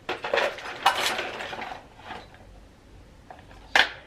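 Small metal screws and bolts rattling and clinking in a storage organizer, a few short bursts of jangling close by with quiet gaps between them and a sharp final clatter.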